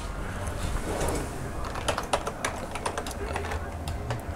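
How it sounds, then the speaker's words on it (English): Typing on a computer keyboard during a Windows Home Server 2011 setup: a steady run of quick, close key clicks over a low background hum. "Once again, I have to get my keyboard out here."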